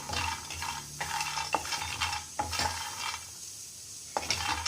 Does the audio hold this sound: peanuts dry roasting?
yes